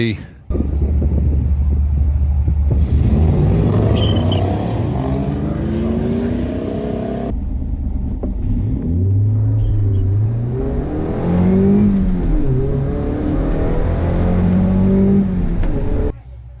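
A Mazda MX-5 launches off the line in a drag race at Santa Pod, revving hard and then accelerating away under a loud announcer's commentary. Rising and falling engine sweeps are audible, with crowd and wind noise in the background.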